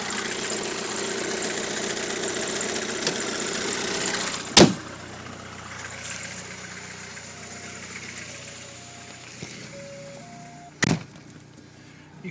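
A VW Passat's engine hums steadily as the car drives, a smooth, continuous drone with a few sharp clicks and thumps breaking through partway along.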